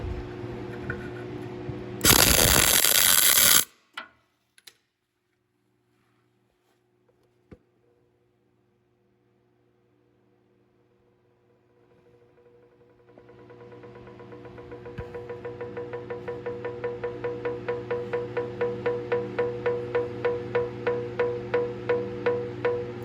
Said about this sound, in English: That's the weld cooling and pulling itself down. So metal is being moved.